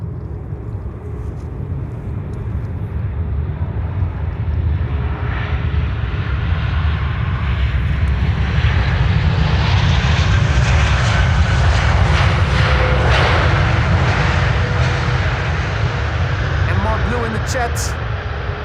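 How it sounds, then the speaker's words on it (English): An Airbus A330-300 airliner arriving at Schiphol, a loud, sustained jet roar and rumble that holds steady for the whole pass, with a voice talking over it. "A330-300, has the potential to get loud."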